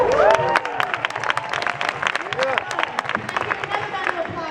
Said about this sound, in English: Another round of applause for Occupy Cal, Occupy Oakland